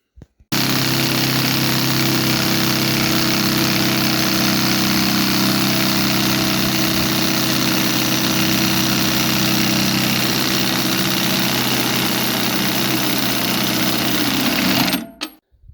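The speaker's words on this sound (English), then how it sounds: "I did film using the sawzall on the two bits of ends there" A Sawzall reciprocating saw cuts through the ends of a homemade precast concrete manhole slab, a loud, steady, buzzing motor roar running continuously for about fourteen seconds before stopping abruptly.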